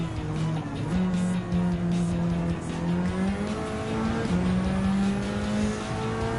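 A race car in Gran Turismo 7 held at full throttle in high gear, a loud sustained engine drone with gently shifting pitch, brief tire squeal mixed in, and no talking.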